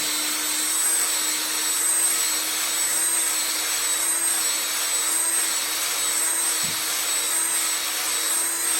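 A cylinder hone spins inside an engine cylinder, giving a steady, loud drill whine with a faint rhythmic rise and fall as it strokes up and down, continuous and close.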